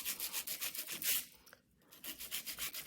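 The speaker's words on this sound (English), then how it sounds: "I'm never leaving my file in the same spot for too long because it can cause burning" A hand nail file rubs back and forth across a polygel nail in quick, even strokes, faint and close, with a short pause before the filing resumes.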